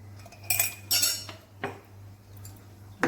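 A spoon clinks and scrapes against a bowl while mixing cheese, butter, chopped coriander and a little salt, with several distinct metallic taps and scrapes over a steady low hum.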